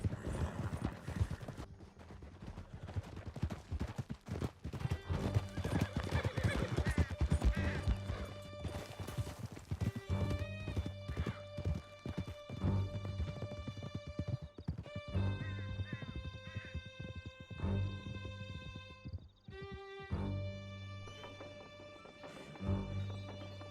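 Horses galloping hard in Red Dead Redemption 2 as riders flee through a canyon, steady rapid hoofbeats with a whinny, under loud game music and shouted voices.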